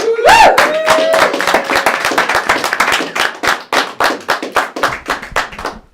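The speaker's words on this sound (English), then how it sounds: "Please give a big round of applause for Mr. Nathan Lund." A comedy club audience gives loud, sustained clapping to welcome a comedian at a stand-up show, the applause close and dense before gradually thinning into scattered claps. A brief whoop rises near the start.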